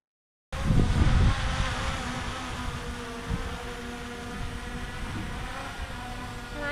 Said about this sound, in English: I'm also going to put the audio on the screen so you can see how loud the drone is